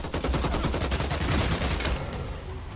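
A minigun in a video game fires a continuous rapid-fire burst, a dense buzzing rattle of shots that runs for about two seconds, loud and up close, then cuts off into a brief tail.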